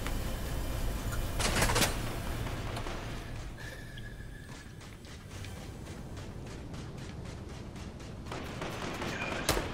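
Scattered gunfire in the Fortnite battle royale game, with several sharp cracks early and late over a steady noisy background, moderately loud and somewhat distant.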